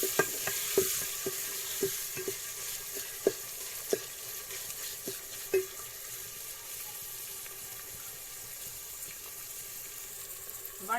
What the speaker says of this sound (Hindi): अब लहसुन को भी थोड़ा भून लूंगी।